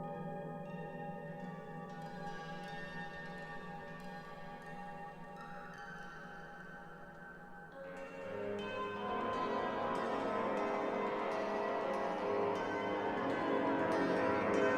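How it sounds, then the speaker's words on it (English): A synthesizer plays sustained, layered bell-like tones that build in loudness and brightness partway through, with no talking. "A little more of a bell sound."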